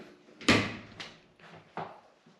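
A loose shower door frame in a Las Vegas home bathroom rattles and knocks in several short clattering bursts, close by and fairly loud, with no talking.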